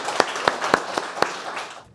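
An audience at a startup pitch session applauds, dense clapping with a few sharp, regular accents, close and steady before it fades out.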